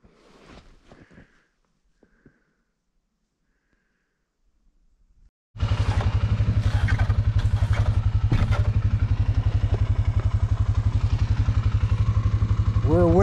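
A winch grinds steadily on a vehicle working through the woods, starting abruptly after a near-silent stretch with a few faint thumps and sounds of movement, then running loud and continuous with rhythmic pulsing until the end.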